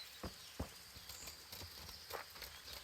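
Horse hooves in the medieval game Kingdom Come: Deliverance land as a few faint, uneven clip-clop thuds over quiet background ambience.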